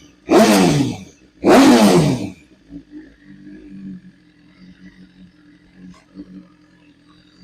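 Two loud, close revs from a motorcycle fitted with a brand-new Austin Racing exhaust, each a harsh rising roar, followed by a low rumbling idle with small blips.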